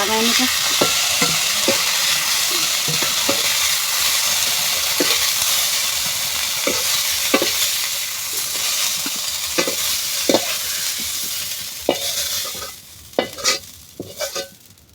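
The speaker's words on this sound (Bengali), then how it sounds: "তেল দিলাম পেঁয়াজ" Onions fry in oil in a home kitchen pan with a steady, fairly loud sizzle, while a utensil stirs them in repeated scraping clacks through most of the stretch; the frying fades near the end.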